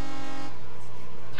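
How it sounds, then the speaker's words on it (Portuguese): Truck air horns mounted on a cab roof blare in the Brick Rigs video game, a loud sustained honk that cuts off abruptly within a convoy that includes an articulated bus. "as cornetonas em cima do teto do caminhão também"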